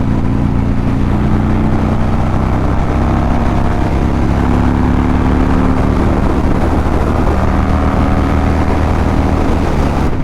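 A 1200cc Harley-Davidson cruiser motorcycle accelerating hard, a loud steady engine roar with wind rush filling the whole stretch and no speech.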